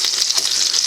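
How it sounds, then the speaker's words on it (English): Cornmeal batter for hoecakes or corn pone frying in hot fat in a pan, giving a loud, steady sizzle and crackle close up with no voices. "put it right in the your fat as it's frying up here"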